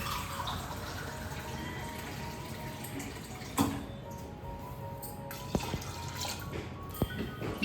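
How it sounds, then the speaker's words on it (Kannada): Water poured into washed lentils in a pot for temple-style sambar, heard as a continuous watery trickle with a few louder splashes and drips toward the end. "ಸ್ವಲ್ಪ ನೀರು ಹಾಕೋಣ."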